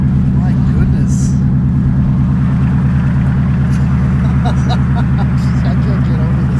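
A 2018 Mustang GT with a 10-speed automatic, making 470 wheel horsepower, rumbles with a loud, pulsing low engine note from inside the cabin, steady under brief voices and laughter.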